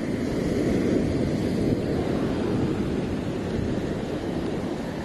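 Ocean surf on a rainy coast of Mindoro, a continuous roar of breaking waves mixed with wind buffeting the microphone, loud and steady with no talking.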